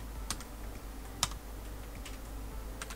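A few light, sparse keystrokes on a computer keyboard while a search is typed, soft isolated clicks spread over a faint steady hum, with no talking.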